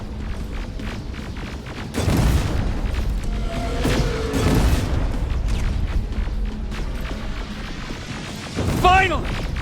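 Grenades blowing up in Terminator: Resistance, heavy booming blasts at intervals among the rumble of combat, with a final burst near the end, while voices talk over the action.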